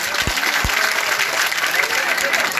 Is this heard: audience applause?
yes